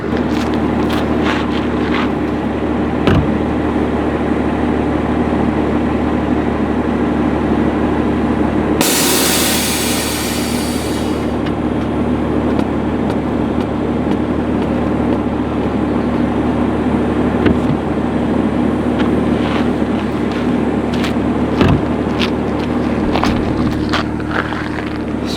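Air suspension on a 2021 Toyota Supra A90 in show mode, releasing and dropping the car quickly to the ground: a short, loud hiss of air partway through over a constant low background hum.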